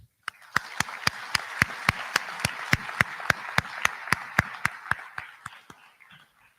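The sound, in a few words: audience applause at commencement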